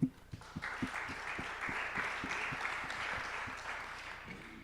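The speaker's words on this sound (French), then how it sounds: "Je pense qu'on peut l'applaudir." An audience applauds at a French talk on AI and the environment, steady dense clapping filling the room after a sharp start, with a few louder individual claps standing out near the front.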